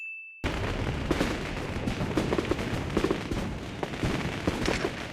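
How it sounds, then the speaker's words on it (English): Gunfire in Cowboy Bebop: The Movie, a dense loud burst of rapid overlapping shots and impacts that starts abruptly and keeps up with no talk. "If his plan was to shoot at Spike anyway"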